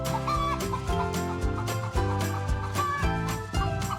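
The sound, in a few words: laying hen cackling after laying an egg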